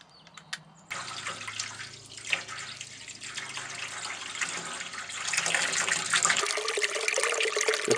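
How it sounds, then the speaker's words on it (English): Water gushing from a battery and solar powered pump into a livestock trough, a steady splashing flow starting abruptly over a low pump hum that later cuts out as the pouring grows louder. "The trough will continue to fill until the water level activates the float switch and cuts out the pump."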